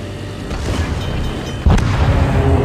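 Heavy booming blasts in World of Warships as torpedoes strike a Wyoming battleship, a steady low rumble topped by a loud, sudden impact partway through that stays dense and roaring to the end.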